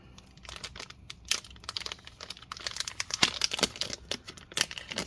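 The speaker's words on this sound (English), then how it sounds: "let's peel this sticker up" A sticker peeled up from inside a Razer Blade 15 2020 laptop during a battery swap, close crackling and crinkling in rapid irregular bursts with no talking.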